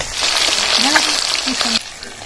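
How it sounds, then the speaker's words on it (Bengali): Loud, close sizzling of bata fish frying in hot oil on a village-style stove, steady throughout, with a brief squeaky scrape in the middle before it quiets near the end. "মাছগুলো সব ভাজা হয়ে গেছে, এবার তুলে নিচ্ছি।"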